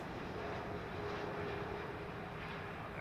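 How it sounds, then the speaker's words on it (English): A Qatar Boeing 777 jet airliner at Heathrow gives off a steady, distant engine roar, a broad even rumble with no voices over it. "another Qatar 777 oneworld jet on its way"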